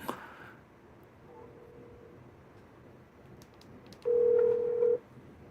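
A telephone call goes out, with a short faint tone followed by a single louder, steady ringback tone lasting about a second over quiet room noise, with no talk.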